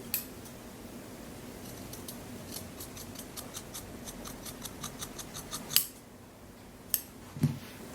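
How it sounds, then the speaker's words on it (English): Fabric scissors trim the seam allowance on a small sewn sunglasses case, a run of quick, crisp snips in an even rhythm, close by, followed by a couple of louder separate cuts near the end. "So you're going to trim off at least half of the seam allowance."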